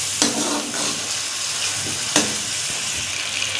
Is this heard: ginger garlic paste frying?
yes